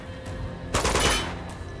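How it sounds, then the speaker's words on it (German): Enemy gunfire in Uncharted from the Nathan Drake Collection, a sudden close burst of rapid shots lasting about half a second over a low background hum, with a fainter shot or two around it. "kommen die Schüsse von überall wieder her"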